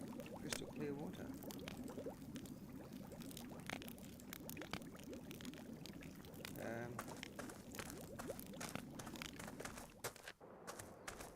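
A pot of water bubbles away in the video game Book of Unwritten Tales, a continuous churning gurgle that holds steady throughout, with voices heard faintly over it.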